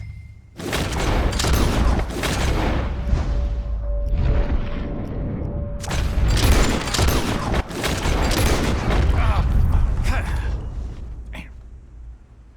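A shooting contest in Red Dead Redemption 2 brings rapid, loud rounds of gunshots, dense volleys and single cracks over about twelve seconds, with brief calls and breaths mixed in.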